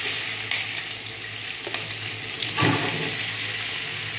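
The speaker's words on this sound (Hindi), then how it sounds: "ये डाल के मैंने जो प्याज चॉप करी है वो डाल दूँगी इसमें" Chopped onions hit hot oil with black peppercorns, black cardamom and bay leaves, a steady dense sizzle filling the clip with a few brief clatters of stirring, close and fairly loud.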